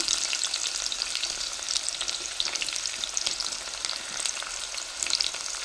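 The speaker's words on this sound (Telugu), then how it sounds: "ఉల్లిపాయ వేగుతూ ఉంటుంది" Chopped onions fry in hot oil in a pot at home for biryani, giving a steady, dense sizzle with faint crackles throughout and no talking.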